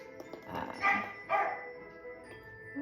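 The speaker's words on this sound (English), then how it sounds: "There's one of the doggies." A dog gives a few short barks and yips at moderate distance indoors, two main bursts roughly half a second apart followed by quieter whimpering sounds.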